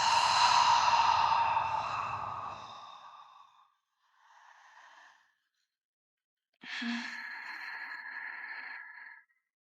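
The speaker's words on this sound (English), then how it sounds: "Take a big inhale in through the nose and exhale out the mouth." A long, deep exhale through the mouth, loud and close at first and then trailing off. A fainter breath follows, then another full breath, all heard alone during a spine mobility stretch.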